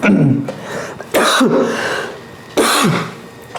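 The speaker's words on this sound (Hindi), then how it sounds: "थोड़ा खांसी आ गया।" A few harsh coughs, loud and close, in separate bursts with short pauses between them.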